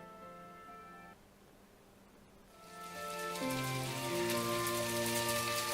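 Rain begins falling in My Time at Portia, starting faint and building midway into a steady, dense patter of drops that continues to the end.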